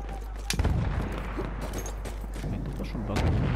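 Rapid bursts of rifle and machine-gun fire crackle through a Battlefield 1 multiplayer match on PS4, with dense overlapping shots, some near and some distant, and a low rumbling battlefield bed beneath them.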